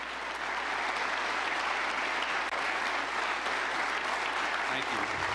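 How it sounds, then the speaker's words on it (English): Sustained audience applause greets Marco Rubio at his Munich speech, a dense even wash of many hands clapping throughout, heard at a moderate distance with no break. "But, Rob, if you don't mind just showing the applause at the beginning."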